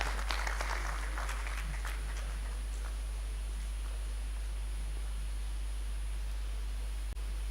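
Scattered clapping from attendees at a ministerial dialogue meeting with civil society organisations as a speaker comes up, brief and fairly faint at the start, then fading under a steady electrical hum and room noise.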